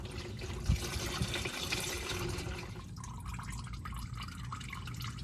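Engine oil drains from the drain plug of a 2022 Toyota Tacoma V6 into a pan, a soft, continuous trickle heard close but faint throughout with no talking.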